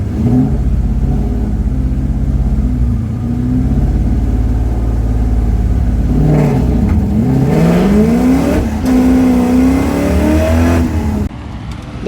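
A Coyote-swapped Mustang notchback revs hard and launches down a drag strip, its V8 roaring loud and close, pitch climbing through gear changes, with no talk over it.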